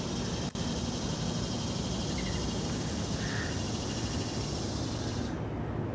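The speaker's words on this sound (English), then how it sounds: "that's the sound of some bugs and birds in South Carolina" Outdoors on a South Carolina morning, insects such as crickets drone in a soft, steady chorus, with faint bird calls scattered through it.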